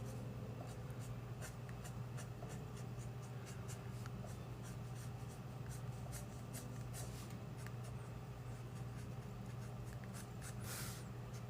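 Colored pencil scratches steadily across paper while a honey-bee page is colored, a soft, continuous rapid scraping of quick strokes under a low background hum.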